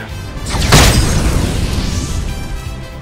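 A fire spell bursts in an Octopath Traveler II battle, a sudden loud boom that flares and then rolls off into a sustained crackling rumble lasting a couple of seconds.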